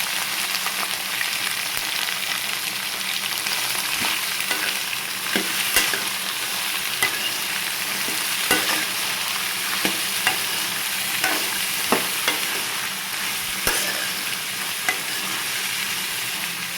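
Broad beans stir-frying in a pan, a continuous close sizzle with regular spatula scrapes and light taps recurring throughout.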